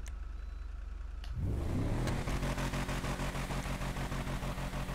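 A Declasse Yosemite 1500 pickup fitted with a level 4 exhaust in GTA Online starts up after a brief quiet moment, rising into a loud, deep, rumbling idle that holds steady and close, with no talking.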